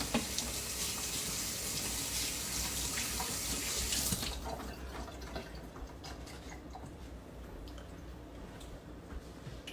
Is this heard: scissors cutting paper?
no